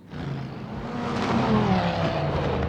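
A race car at the 2017 Spa 24 Hours roars loudly nearby as it goes off track, its pitch climbing and swelling as it accelerates past, with a rough, gritty edge.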